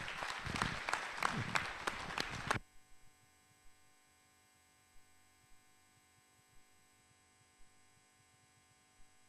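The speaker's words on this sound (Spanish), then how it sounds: "quien pide un aplauso y bien fuerte." Seminar audience claps briefly for about two and a half seconds, then the room falls quiet except for a steady electrical hum and occasional soft knocks.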